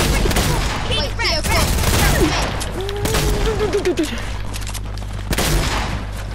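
Bursts of gunfire crackle through a video game squad match, loud and frequent, while people talk over the shooting.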